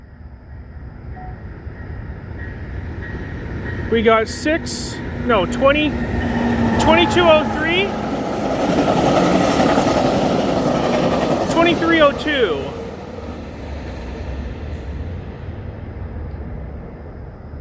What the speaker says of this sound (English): We have a CN train coming. No, it's a Via actually.